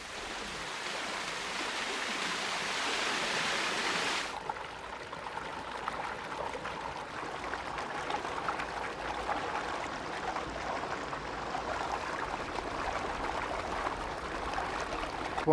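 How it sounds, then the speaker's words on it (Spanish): Water flowing into a central mountain reservoir tank in Kenya, a continuous rushing hiss that is louder for the first few seconds, then settles into a steadier, softer flowing wash. "Finalmente, las aguas llegan al depósito central en las bajuras de la montaña"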